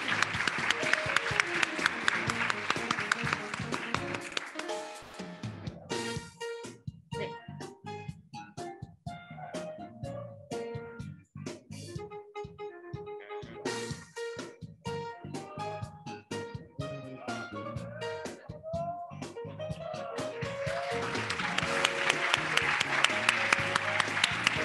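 At an award ceremony for the 2022 quantum information competition, an audience breaks into loud applause, which fades under a stretch of tonal music and then swells again toward the end.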